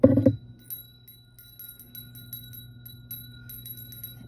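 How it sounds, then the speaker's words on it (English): A bell is struck once, followed by a faint, lingering high ringing that slowly fades in a quiet room. "So I'm gonna go ahead and ring the bell."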